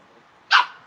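One short, sharp bark from a dog close by, alone after a near-silent lead-in.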